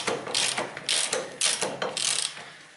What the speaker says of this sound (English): I can open this bolt using this my tool.